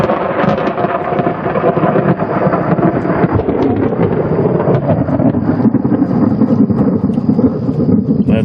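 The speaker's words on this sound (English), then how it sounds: "I'm going inside because it's starting to rain." A thunderstorm with heavy, steady rain pours loud and close throughout, with low thunder rumbling beneath the dense hiss of the downpour.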